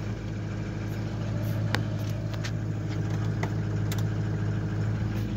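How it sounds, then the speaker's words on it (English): A 2004 Ford 6.0 Powerstroke diesel truck idles after a cold start on a snowy day, a steady low rumble with a faint ticking clatter and a few sharp clicks over it. "Truck fires right up, no problem in the cold."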